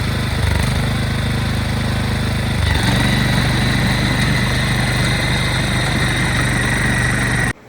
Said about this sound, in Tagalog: Pinadaanan ko ng soil tiller natin.